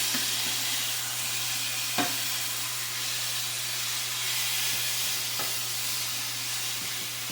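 Chicken for butter chicken browning gently in a pan, giving a steady close sizzle and hiss that runs the whole time, with a few faint clicks and no talking.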